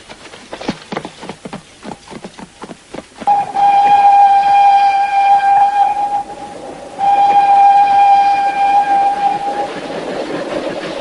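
A train rumbles and clatters past up close, then a long steady whistle blows twice in sustained blasts with a brief gap between them over the rolling noise.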